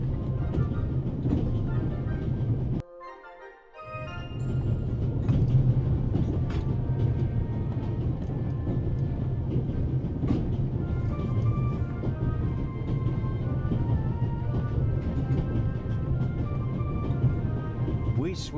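A train in the video game The Raven rumbles steadily with a low, continuous roar and rattling, loud and close, briefly cutting out near the start before resuming.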